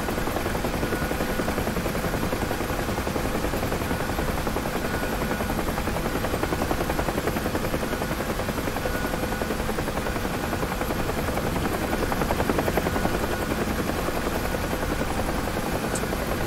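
The helicopter engine in a flight simulator game makes a dense, continuous rotor-and-turbine drone. It is loud and unchanging throughout, with no voices over it.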